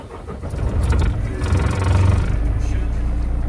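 A Renault M220 truck engine starts on the ignition and settles into a steady low diesel idle, close and fairly loud, with a voice talking over it.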